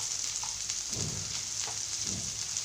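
Cauliflower and peas fry with masala in a pan, giving a constant close sizzle with a few soft scraping stirs mixed in.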